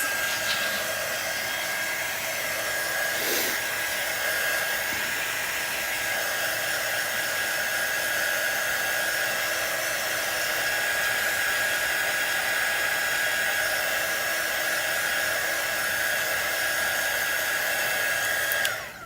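Hair dryer blowing hot air to dry a bamboo bunny craft project, giving a loud, continuous, steady whoosh up close that holds for the whole stretch with no pauses.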